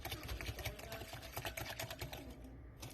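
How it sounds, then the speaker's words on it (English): A whisk beats vanilla pudding mixture in a bowl, giving a steady, fast rhythmic scraping and clattering that runs through the whole stretch at close range, with no talking. "So then we whisk this."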